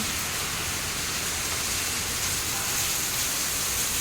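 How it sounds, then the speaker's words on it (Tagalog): Steady rain falls in Singapore, a soft, even hiss of drops on surfaces that holds at a constant faint level throughout, with no voices. "Kasi umuulan tas parang ma-fog siya."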